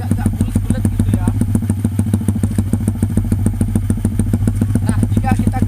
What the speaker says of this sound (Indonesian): beginilah dia suaranya jika netral ya, tidak dimasukkan